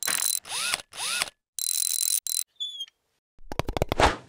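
Universal floodlight adapter being fitted onto an aluminium tube, close and loud bursts of ratcheting, rasping metal clicks in several separate runs, separated by short pauses and ending in a quick series of sharp clicks.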